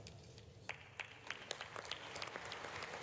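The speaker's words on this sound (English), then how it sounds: "Mild applause for the Dean of the Diplomatic Corps" Scattered, mild clapping in a large chamber for the Dean of the Diplomatic Corps, faint and distant with individual claps standing out over a crowd murmur.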